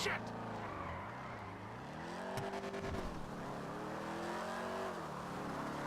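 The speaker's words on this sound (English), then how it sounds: "This car is the Coquette Classic. It's basically the GTA version of the Corvette Stingray." A Coquette Classic sports car, a GTA V counterpart of the Corvette Stingray, drives with a steady, close engine drone and shifting revs, a voice talking over it.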